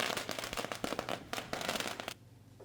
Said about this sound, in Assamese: কোচ ৰাজবংশীৰ জনগোষ্ঠীৰ লোকসকলে ফটকা ফুটাই ৰাষ্ট্ৰীয় ঘাইপথত আনন্দ উল্লাস কৰা পৰিলক্ষিত হয়